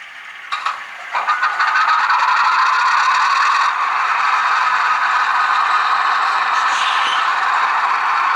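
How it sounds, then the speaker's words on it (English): RS 11 model diesel locomotive running with a LokSound DCC sound decoder, a mechanical start-up clatter building into a steady loud rattling engine drone that holds throughout. "Please note the sounds you are hearing now are the official Loke Sound files,"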